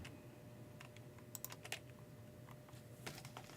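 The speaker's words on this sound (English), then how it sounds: "Keyboard." Computer keyboard keys clatter in quick, uneven bursts, faint and fairly close, over a low steady room hum with no voices.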